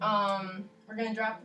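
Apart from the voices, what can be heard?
No everyday noises stand out.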